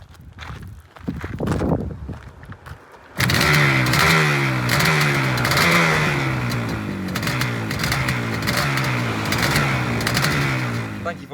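A cold 1976 Yamaha RD400C motorcycle is kicked over and fires up, its two-stroke engine then revving repeatedly in rising and falling surges, loud and close, after a few mechanical knocks and a voice at the start.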